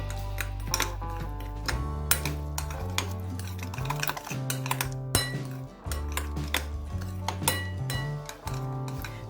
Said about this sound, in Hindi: अब इसे अच्छे तरीके से मिक्स कर